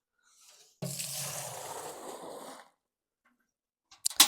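Water is poured into a leaky bucket while setting up a wax press outdoors. A close, steady splashing pour lasts about two seconds, then stops abruptly, and a few faint clicks follow.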